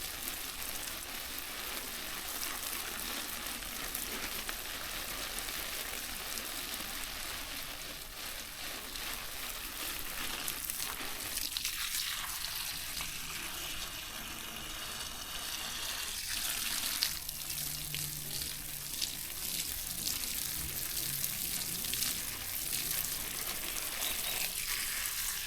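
A garden hose spraying water onto plants in a garden behind a house, a continuous soft hissing spray that runs steadily throughout, fairly faint and with no talk over it.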